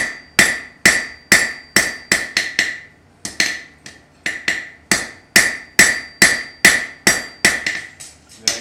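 Hammer blows striking hot metal during blacksmith forging, a fast ringing series of sharp clanks in rhythmic bursts with a short pause midway, loud and close with no talk.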